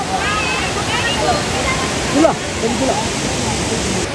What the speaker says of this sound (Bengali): এই ঝর্নার জল ওখান থেকে পড়ছে